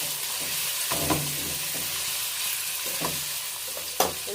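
Chicken and ginger garlic paste sizzle and fry in a pan for a Hyderabadi korma, a dense steady hiss up close with a few stirring scrapes and clinks.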